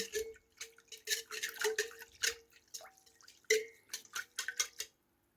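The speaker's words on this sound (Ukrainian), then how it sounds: "Перемішую вінчиком." A whisk stirring dough batter in a bowl, giving quick, wet, clicking taps against the sides in a fast irregular rhythm, close and fairly soft, with brief vocal sounds underneath.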